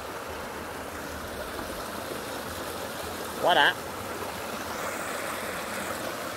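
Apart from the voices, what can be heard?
flowing stream water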